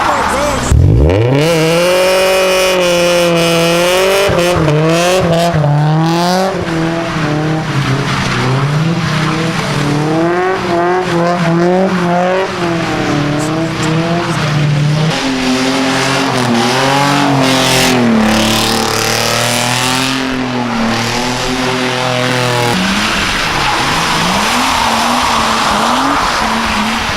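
At a car meet, a car does a burnout with sustained wailing tire squeal and repeated revving engine swells that rise and fall loudly and close, with crowd voices and cheering mixed underneath.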